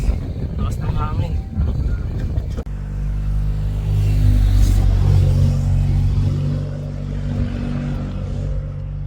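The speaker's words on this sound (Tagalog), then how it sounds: "Lakas ng hangin." Strong mountain wind buffets the microphone on the Jebel Jais view deck at midday, a loud continuous low rumble and roar that swells in the middle, with brief talk at the start.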